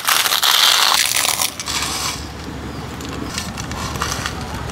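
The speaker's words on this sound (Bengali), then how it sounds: "মশলা মাখা হয়ে গেছে, এখন চিপসটা ভাঙিয়ে লই।" Potato chips crushed by hand in a kitchen, a loud crackly crunching for the first second and a half, then a quieter steady rustle and crackle continuing to the end.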